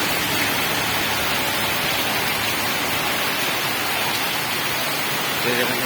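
Heavy monsoon rain pours down in northern Bengal as a dense, constant roar of broadband noise, loud and unbroken throughout.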